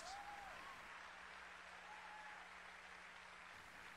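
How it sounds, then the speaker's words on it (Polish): An audience claps steadily during a sermon, a dense and even wash of applause holding for several seconds at a moderate distance with no talk over it. "Nie wiem, dlaczego klaszczecie."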